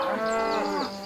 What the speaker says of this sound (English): Take those big fat cows out of my garden!